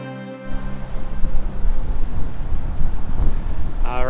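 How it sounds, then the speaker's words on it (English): Steady wind gusting across the microphone at a high open lookout tower above Lake Superior in northern Minnesota, a broad continuous low rumble that fills the clip, with a brief voice-like sound near the end. "it is a little breezy and cool up here"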